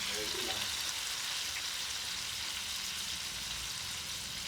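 Pancit noodles being stirred with soy sauce in a frying pan for a fiesta dish, giving a steady, moderately loud frying hiss that runs evenly throughout, with a few faint clinks near the start.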